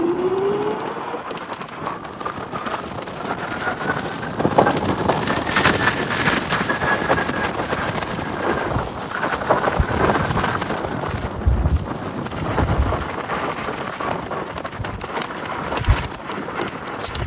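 A Javelin X custom electric moped rides by at speed, its motor whine rising in pitch then leveling off under heavy rushing wind noise throughout.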